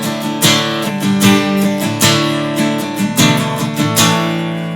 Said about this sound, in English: You've got a Martin Singolo, which is a really small-bodied acoustic